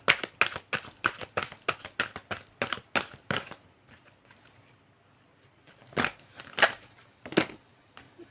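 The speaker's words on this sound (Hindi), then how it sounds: "बहुत कार्ड पता नहीं क्यों आज बहुत फिसल रहे गाइस, बहुत ज़्यादा अचानक से गिर जा रहे हैं" Playing cards slip and tumble, a fast run of crisp taps and flutters, a quieter pause, then a few more scattered slaps of cards landing close by.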